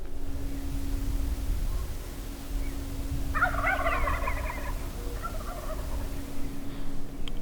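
Wild turkeys on public land in Nebraska gobble once in a burst of rapid, rattling calls, distant, roughly 100 yards off, under steady wind and outdoor hiss.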